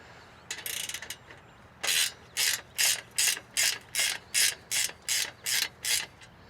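A ratchet wrench tightens bolts while a low tunnel bender for EMT conduit is assembled. It makes about a dozen crisp, evenly paced ratcheting bursts, close and loud, after two short opening pulls.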